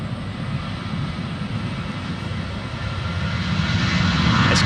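A McDonnell Douglas MD-11 tri-jet freighter of the UPS fleet passes near the runway entry point at Louisville airport, its engines a loud, steady roar that swells as it draws closer.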